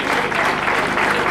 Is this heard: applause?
yes